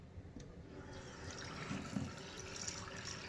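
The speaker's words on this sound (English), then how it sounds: "I'm gonna add a little water to that" Water pours steadily into a cooking pan of spinach at a home stove, a soft continuous splashing and gurgling that stays fairly faint and close for a few seconds without talk.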